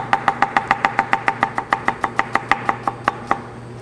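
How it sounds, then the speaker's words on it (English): A knife chops shallots into julienne on a cutting board, a fast, even run of about twenty crisp taps, close and clear with no voices. "I'm just going to flip it over and finish that knife cut out"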